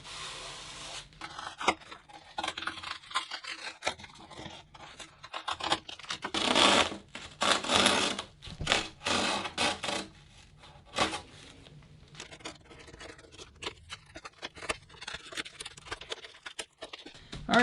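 Fiberglass cut lap being stripped from the edge of a foil SUP board: quiet, irregular scratching, rubbing and tearing scrapes that come in uneven bursts, louder around the middle, with no talk.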